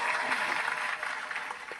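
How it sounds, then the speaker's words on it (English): Brief burst of audience applause, a short wash of clapping lasting under two seconds, moderately loud and fairly even. "Let's give a round of applause for Mr."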